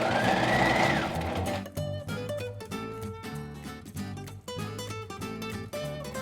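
A sewing machine runs steadily while stitching a plain seam, its needle clattering in a fast, even mechanical rhythm, close and alone after a brief louder whir at the start.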